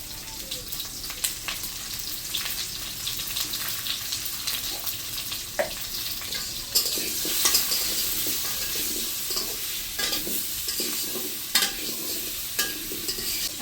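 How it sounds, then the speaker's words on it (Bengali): Potato pieces sizzling in hot oil, lightly salted and dusted with turmeric, give a steady close frying hiss broken by occasional scrapes and clinks of a utensil stirring in the pan, with no talking. "তেল গরম হয়ে গেছে, এখন আলুর টুকরোগুলো ভাজার জন্য দিয়ে দিলাম।"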